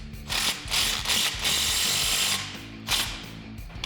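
A power tool driving an Allen bit tightens the exhaust tip clamp on a 2021-2022 Ford Bronco with an MBRP Black Series cat-back exhaust, several short close ratcheting bursts of whirring impact.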